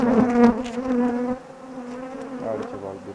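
Honeybees at a beehive in an apiary give off a loud, close buzzing drone that wavers in pitch and swells and fades as individual bees pass near, with no voices.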